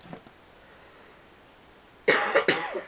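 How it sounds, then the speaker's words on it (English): A single burst of harsh human coughing close by, a few rapid hacks after a quiet pause. "Sorry, coughing."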